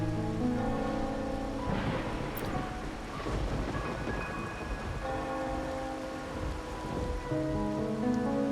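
Steady rain in Ragunna, a rainy setting in the video game Wuthering Waves, hisses continuously throughout, with a low rumble beneath and soft musical tones over it; no one talks.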